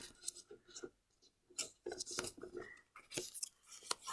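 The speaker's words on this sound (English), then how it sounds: "you're taking the sides, folding it to the middle line" Paper being folded and creased for an origami modular star, faint crinkles, scrapes and sharp creasing snaps at close range, with soft speech over them.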